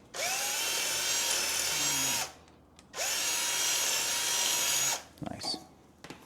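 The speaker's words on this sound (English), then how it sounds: "just gonna go ahead and drill this out" A power drill whirs loudly and close up in two long, steady bursts while drilling out a bracket during a front wheel hub replacement on a 2005 Chevy Colorado, separated by a short pause, with a brief clatter at the end.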